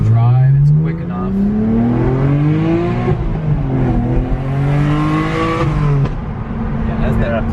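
A BMW E92 328i engine revs up and down repeatedly, a loud, close, rising and falling engine note with a strong growl, with voices faintly underneath.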